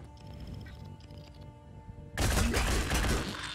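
A heavy cannon blast erupts partway through, a loud booming burst with a rumbling tail after quieter game ambience, during a firefight in the PC strategy game Phoenix Point.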